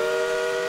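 A steady train whistle sounds alone, a sustained tonal blast held loud and constant the whole way through, with no talk over it.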